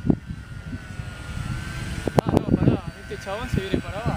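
A propeller airplane that is descending after takeoff with a mistrimmed elevator gives a faint engine drone with a thin steady whine, mostly masked by excited voices talking close by.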